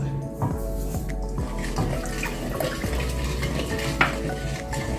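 Brown sugar being stirred into liquid for a Jamaican spiced Easter bun, a steady watery swishing and scraping that runs continuously at close range with occasional sharper clinks, no talking.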